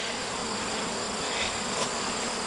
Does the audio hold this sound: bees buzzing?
yes